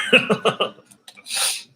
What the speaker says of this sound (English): So y'all excuse me if I'm coughing.